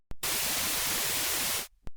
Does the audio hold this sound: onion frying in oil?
no